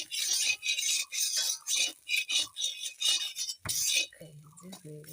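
A metal utensil scraping and clinking against an iron wok while lifting out dry-roasted mulka pitha, in repeated bright bursts of scraping, followed by a low hum at the end.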